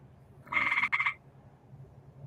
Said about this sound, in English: You hear that chirping? That is a frog,